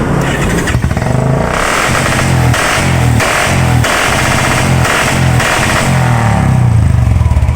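Two-stroke motorcycle idling loud and close with a choppy, rhythmic putter and repeated throttle blips through the whole stretch, no talking over it.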